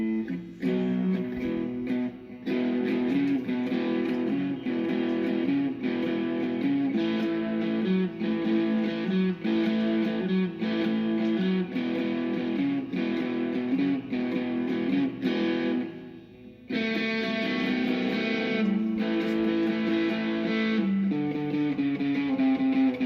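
Distorted electric guitar plays blues-style riffs and chords through built-in amp and effects presets on a BOSS eBand JS-8, loud and continuous, with a brief pause before a brighter tone resumes.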